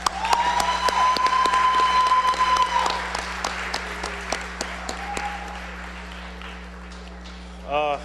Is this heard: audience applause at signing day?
yes